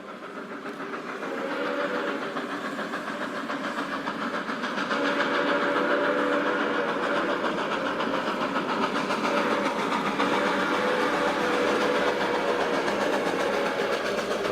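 A train rolls past with a long whistle, the rumble of the engine and the clatter of the cars building and then holding steady, fairly loud and with no talk over it.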